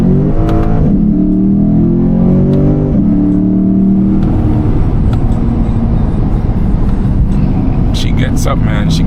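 A Lexus GS F accelerates hard, its engine note climbing loudly in pitch before settling into a dense, sustained roar that stays close and loud throughout.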